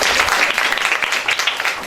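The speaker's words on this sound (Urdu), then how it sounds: "ان کے لیے بھی بہت سی تالیاں" A workshop audience in Sialkot gives students a brief round of applause, dense close clapping lasting under two seconds.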